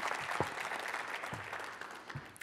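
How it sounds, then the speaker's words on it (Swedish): An audience applauds to welcome a speaker onto the stage at a talk, with steady, moderately loud clapping throughout. "Välkommen upp på scenen. En applåd."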